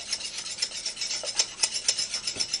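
Coarse grind pepper being mixed by hand into a bowl while preparing chicken fried steak, a repeated gritty scraping and rubbing in an even rhythm, close and fairly loud with no voices.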